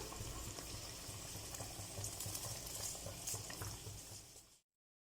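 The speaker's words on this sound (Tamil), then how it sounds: "நம்ம தண்ணி நல்லா பாயில் ஆகிடுச்சு" Water boils in a pot being readied for chicken biryani rice, giving a steady, close bubbling hiss that holds evenly for over four seconds and then cuts off abruptly.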